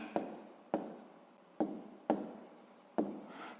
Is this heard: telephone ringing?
no